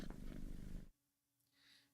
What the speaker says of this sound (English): And then the cat, I do believe,